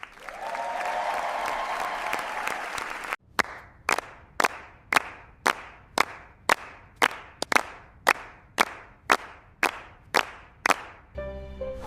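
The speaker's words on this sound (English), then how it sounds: "The entire auditorium breaks into loud applause and cheers for the whole team." School play audience in an auditorium breaking into loud, sustained applause and cheering, followed by a run of about fifteen sharp, evenly spaced single claps, loud and close.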